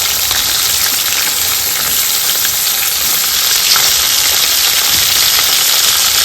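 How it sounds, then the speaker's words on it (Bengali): Pabda fish fry in hot mustard oil with a loud, dense, steady sizzle that holds evenly throughout, close up and with no voices. "তেল গরম হয়ে গেছে, পাবদা মাছগুলোকে হালকা ভেজে নিব"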